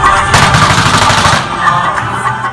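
Loud, dense gunfire in rapid bursts like a machine gun, sustained for about two seconds before easing slightly, with no clear speech.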